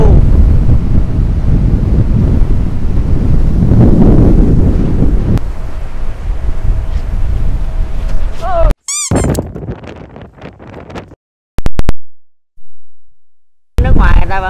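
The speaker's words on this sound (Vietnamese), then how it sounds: "Đây là biển nè các bạn." Strong typhoon wind and surf on Da Nang beach during Typhoon Noru, a loud continuous roar of gusts buffeting the microphone for most of the stretch, then broken by abrupt dropouts and short sharp bursts near the end.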